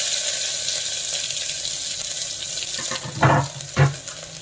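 Chopped onion and green chillies sizzling in hot oil in a pan for a dill and moong dal dish, a steady close hiss with two louder sputtering bursts near the end.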